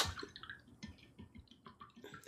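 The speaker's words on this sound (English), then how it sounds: "let me rinse that off" Water splashes and drips as something is rinsed off at a sink during mixed media painting, with scattered close trickles and small wet clicks in a short, uneven burst.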